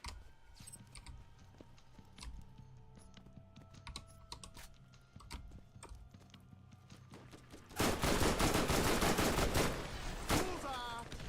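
Gunfire erupts in the shooter game Borderlands after a stretch of rapid keyboard clicking, arriving as a loud, dense burst of shots in the final few seconds with a brief pause partway through.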